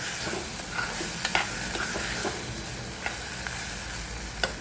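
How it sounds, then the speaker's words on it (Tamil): Dried vegetables fry lightly in oil in a pan for a kuzhambu, a close, steady sizzle punctuated by regular spoon clacks and scrapes as they are stirred, with no voice. "நம்ம இந்த எண்ணெயில் இப்போ லைட்டாக வறுத்துக்கலாம்"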